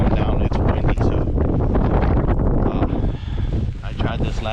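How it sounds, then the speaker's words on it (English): Strong wind buffets the microphone in loud gusts on a lake while fishing, with a rough rushing noise of pouring rain, steady throughout. "It's windy"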